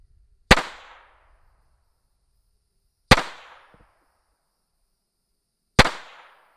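Three sharp, loud pistol shots from a WWI-era German Walther Model 4 pistol, spaced a few seconds apart, each with a short echoing tail and quiet gaps between.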